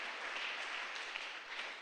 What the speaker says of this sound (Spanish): Pero dale una prenda de palmas al Rey de Reyes.